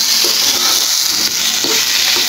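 Potato bhaji fries in an uncovered pan and is stirred, producing a loud, continuous close-up sizzle with soft periodic scraping strokes and no voices.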